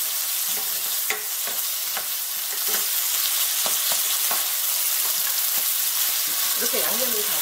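Gochujang seasoning sizzles steadily as it is stir-fried in a pan for bean sprout fried rice, with a spatula scraping and tapping the pan every second or so over a constant, close frying hiss.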